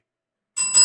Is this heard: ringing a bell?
yes